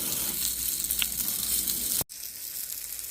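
Thai-style chicken wings sizzling on a Somerset grill during a flare-up, producing a steady, close frying hiss that briefly cuts out and then resumes, with no one talking.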